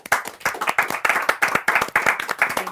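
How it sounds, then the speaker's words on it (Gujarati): An audience claps to welcome Janvi on a Gujarati podcast set, a lively burst of close hand claps in quick uneven rhythm, with no talk over it. "ચાલો ભાઈ, ખૂબ બધી તાળીઓ સાથે જાનવીને વધાવી લઈએ"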